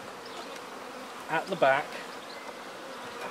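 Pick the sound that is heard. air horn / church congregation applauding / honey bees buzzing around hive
honey bees buzzing around hive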